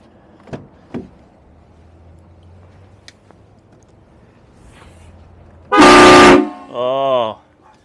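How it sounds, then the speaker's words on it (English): Train horns mounted on a Ram 5500 or Ford F550 hauler truck give one loud, close blast and then a second shorter multi-tone blare, after a few faint thumps and quiet background. "he has a couple of train horns"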